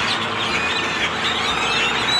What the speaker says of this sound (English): This is what I guess those are birds are deafening.